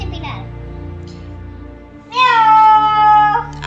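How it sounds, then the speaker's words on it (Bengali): Kittens meow while eating: one loud, drawn-out meow close by lasts over a second, after a few quieter sounds and faint background voices. "আস্তে আস্তে অনেক মেও মেও করতেছিল"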